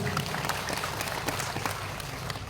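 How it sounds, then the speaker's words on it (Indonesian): An audience claps for a village head at a dawn religious gathering held outdoors in a yard, a faint, steady patter of applause heard from a distance. "Tepuk tangan buat Bapak Kades kita."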